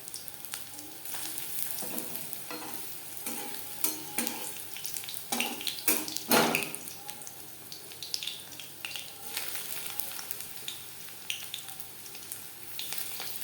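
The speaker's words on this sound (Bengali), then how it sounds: "বড়া ভাজবো মিডিয়াম ফ্লেমে।" Jute leaf fritters frying in oil over medium flame, a steady close sizzle with bubbling crackle and occasional louder spits, heard alone without talk.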